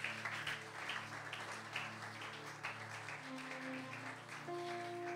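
A church congregation claps steadily in praise of the Lord, a faint, continuous wash of many hands with soft sustained tones emerging near the end.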